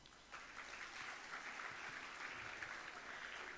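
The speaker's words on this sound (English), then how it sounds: "A round of applause." Audience applause breaks out at a conference keynote, a steady wash of clapping from a crowd that holds evenly throughout.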